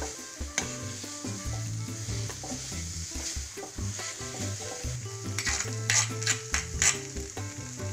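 Cauliflower stuffing for parathas sautés in a pan, giving a steady close sizzle with repeated scraping stirs and spatula taps throughout, with a tonal hum underneath and no talking.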